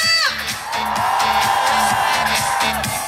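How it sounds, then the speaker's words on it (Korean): A crowd at a cherry blossom festival concert in Korea whoops and cheers loudly and steadily, mixed with music and a rhythmic beat beneath the shouting. "중간 함성 소리 한 번 더보실까요"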